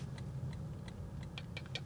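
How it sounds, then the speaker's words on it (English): Soft, regular ticking clicks of a Lexus LC500h hybrid's turn signal repeating at a steady rhythm over a low engine hum, faint and close. "The indicators sound like they're a detonator about to go off."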